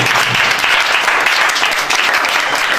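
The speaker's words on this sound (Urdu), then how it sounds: "زوردار تالیاں بجائیں بھائی" Loud, dense applause from a congregation at an Urdu/Hindi sermon, sustained clapping filling the whole moment without a break.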